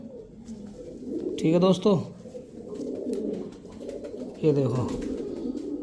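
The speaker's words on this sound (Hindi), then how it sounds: "ये ओरिजिनल मीराब वाले कबूतर हैं" Original Meerab pigeons coo in two short, throaty bursts close by, under someone talking.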